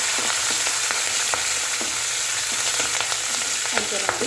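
Curry leaves dropped one by one into hot oil for a South Indian chutney tempering, giving a steady close sizzle and crackle with small sharp pops scattered throughout.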